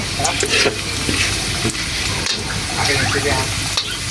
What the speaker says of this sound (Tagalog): Ginigisa ko na po itong ating bawang.